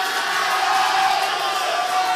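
Supporters of a candidate at a regional election debate cheering and applauding, a dense, loud, continuous roar of crowd noise for a couple of seconds.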